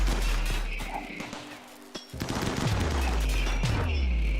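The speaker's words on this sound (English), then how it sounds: "Defensive positions help a ton because they will get some shots off" Rapid bursts of gunfire from colonists holding defensive positions behind walls in Rimworld, loud and close. The volleys overlap into a steady fusillade over a low rumble, with one brief drop near the middle.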